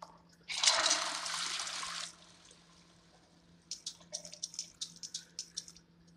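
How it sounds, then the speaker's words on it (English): A video game toilet flushes with a loud rushing gush for about a second and a half, followed after a pause by a series of light dripping, trickling splashes. "Let's see if I can flush the toilet."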